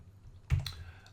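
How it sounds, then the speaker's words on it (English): Short burst of computer keyboard typing, a couple of quick close clicks standing out over a quiet room, with no voice. "my typing's terrible today"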